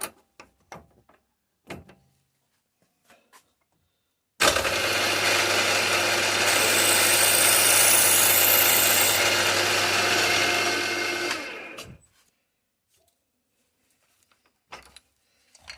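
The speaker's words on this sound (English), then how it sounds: "Drill." A power drill runs steadily for about seven seconds with a high whirring grind, close by, framed by scattered clicks and handling noises before and after.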